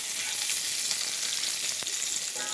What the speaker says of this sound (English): I like to pan fry mine up a little